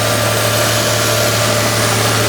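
A 1985 Toyota 4Runner engine running smooth and steady at idle, loud and close, with a constant low drone and a faint high whine and no speech.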